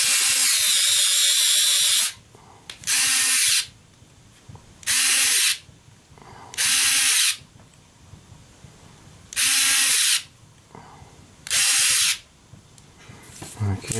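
A Parkside PASD 4 A1 cordless screwdriver drives a screw on its torque settings. Six loud, close whirring bursts of about a second each are separated by short pauses, and each burst cuts off sharply.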